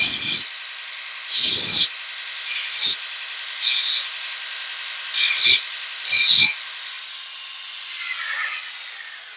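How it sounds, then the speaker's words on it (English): A belt sander running a coarse 36 grit belt lightly touches the edges of metal blanks, giving six short hissing, scraping bursts spaced about a second apart over a steady motor hum. "So I hit it really lightly because it's a 36 grit belt"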